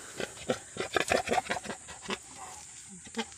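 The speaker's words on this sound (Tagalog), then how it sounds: "Ito yung aking mga anak na baboy." A sow and her piglets in a concrete pen, with a series of short grunting, snorting calls in quick irregular bursts, fairly close and loud, easing into a few scattered grunts.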